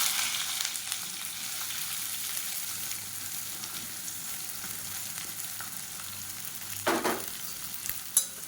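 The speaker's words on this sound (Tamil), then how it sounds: "இப்போ மீடியம் சைஸாக 2 பெரிய வெங்காயம் நீளமாக நறுக்குனதை சேர்த்துக்கலாம்" Two large sliced onions fry in hot oil for an egg curry, a soft, steady sizzle throughout with a couple of brief stirring clinks near the end.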